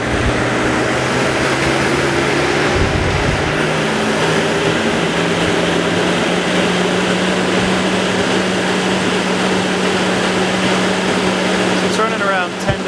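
A Revolution Hybrid duct vacuum runs steadily at close range, a loud continuous whir and hum with a sustained low tone, holding level for the whole stretch.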